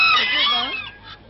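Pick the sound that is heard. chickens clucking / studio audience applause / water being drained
chickens clucking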